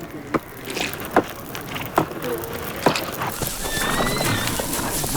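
Many horses at a gathering of guests, with several sharp hoof clops at a steady spacing and then a thin, high whinny near the end over a busy outdoor background.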